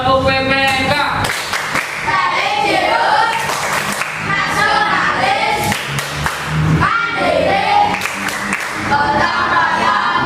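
A class group performing a rhythmic PPK clap chant, with loud patterned claps and thumps in bursts alternating with chanted voices, close and energetic throughout.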